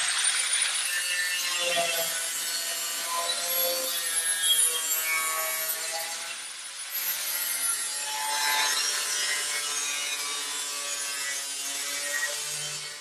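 Metal of an Alfa Romeo GT quarter panel is cut during restoration, giving a continuous harsh grinding and rasping that wavers in pitch, close and steady, with no voices.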